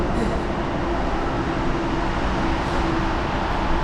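Steady rumbling of a light rail train in motion, a constant low roar with a faint hum, no voices.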